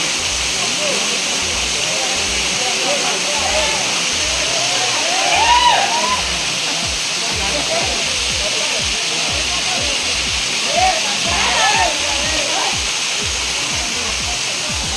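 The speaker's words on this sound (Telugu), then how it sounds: "మంచిగా వాటర్ ఫాల్ మీద చూడు" Raikal Waterfalls in Telangana, a steady roar of falling water that is loud and continuous throughout, with faint chirps rising above it now and then and a low rhythmic rumble underneath.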